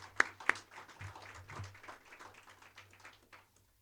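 Faint crowd applause at a Prince George's County budget press conference for the budget team, a soft patter of clapping with a couple of sharper claps at the start, fading out to silence.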